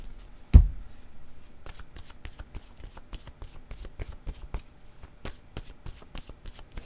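A deck of oracle cards is shuffled by hand, a quick run of crisp riffling slaps at first followed by an irregular series of sharp snapping card flicks, close and fairly quiet.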